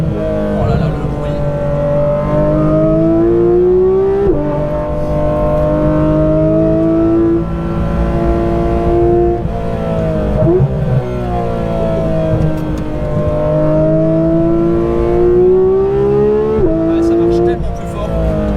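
A Porsche GT3 RS fitted with a new exhaust drives past, its engine note loud and continuous, climbing in pitch through repeated gear pulls with brief dips between shifts.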